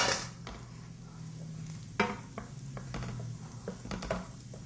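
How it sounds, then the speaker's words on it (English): Finely chopped shallots sautéing in melted butter and oil, a low sizzle under several sharp clinks and taps of a utensil against the pan, close and fairly quiet, without speech. "I'm going to saute these finely chopped shallots"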